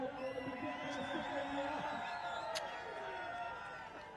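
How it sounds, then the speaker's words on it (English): Crowd at a cricket ground, Jimmy Powell Oval in Grand Cayman, before a MAX60 Caribbean League match: a steady, fairly distant murmur of many voices and a hum of activity under talk, with a few brief sharper calls. "You can hear the crowd."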